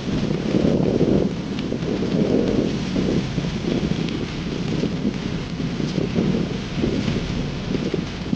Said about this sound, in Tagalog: Ayan na, ulan na naman.